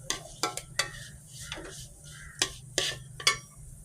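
Toor dal dry-roasting in a pan while being stirred, giving soft scraping sweeps and a few sharp clinks of a spoon against the metal, quiet and close over a low steady hum.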